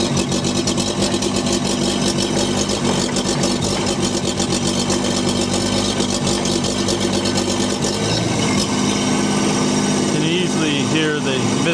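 An STL1000 engine running poorly and misfiring, a loud continuous buzzing drone with uneven stutters, heard close with no clear break.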